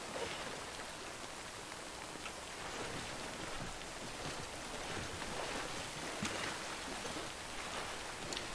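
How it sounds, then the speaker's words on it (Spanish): Rain falls in the video game Death Stranding, a dense, even hiss of drops pattering steadily on surfaces throughout, with no voices. "Está lloviendo y me da miedo por la carga"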